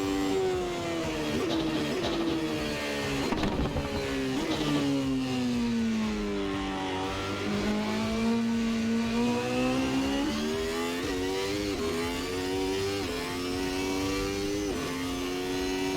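A McLaren MP4/8 Formula One car in the Assetto Corsa racing game, its engine screaming and revving continuously with rising and falling pitch through gear changes, loud and steady throughout with no talk.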